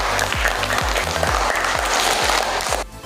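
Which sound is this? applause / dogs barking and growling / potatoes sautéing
applause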